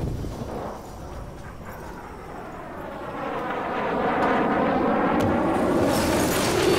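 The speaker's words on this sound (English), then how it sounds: "We're bringing down a plane to save Timmy." A plane comes down in the video game The Forest: a deep, swelling rumble with a falling roar that grows louder and nearer over several seconds, with no voices.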